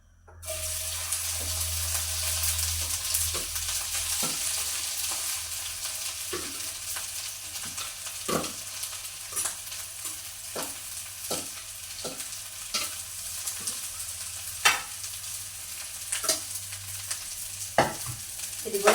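Okra sautéing in a pan, a continuous hissing sizzle with low hum underneath and sharp intermittent scrapes and clinks as it is stirred, strokes spaced unevenly and growing more frequent later, no speech.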